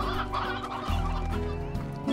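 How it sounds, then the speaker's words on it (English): A chicken in the video game Slime Rancher clucks in short, repeated bursts, close and clear over a steady tonal game background, with no voices. "Chicken."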